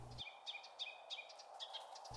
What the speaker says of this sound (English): both the female and male Ruby Crown Kinglet were mobbing the gray jays